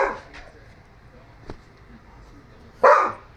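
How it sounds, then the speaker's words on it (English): A dog lets out several sharp barks, one loud bark near the start, a fainter one in the middle and a close, loud bark near the end, with quiet room noise between. "Okay, that's enough barking."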